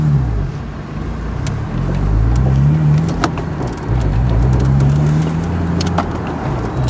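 A Porsche 986 Boxster pulling away, its engine a loud steady rumble heard from inside the car, with the revs rising and falling as it gets moving.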